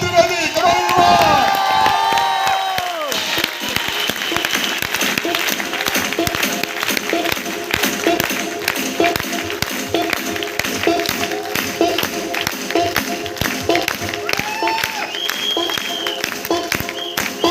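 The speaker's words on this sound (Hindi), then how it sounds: "एक बार जोरदार ताली चाहिए" An audience at a business welcome event breaks into loud, sustained applause with cheering and shouts, filling the whole stretch from start to finish, with voices rising over the clapping near the beginning.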